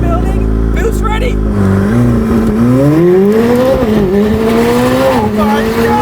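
A 2022 McLaren 765LT Spider launches under launch control at full throttle, its engine roaring loud and close with rising pitch through quick gear changes, tire noise mixed in, and an excited voice talking over it.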